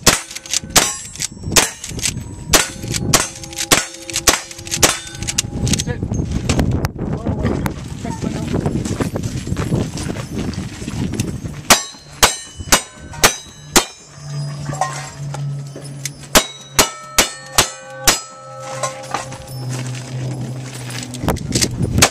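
Cowboy action shooting stage with revolvers and a rifle firing at steel targets, sharp shots and metallic pings in quick bursts alongside a steady tone and a voice speaking.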